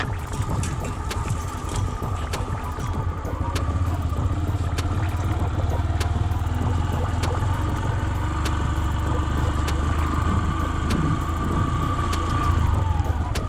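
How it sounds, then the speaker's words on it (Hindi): A motorbike rides along a narrow dirt footpath across a pasture on a mountain. Its engine drones close and steady, with rattles and clatter from the rough ground. "और मैं इस पगडंडी पे बाइक चला रहा हूँ।"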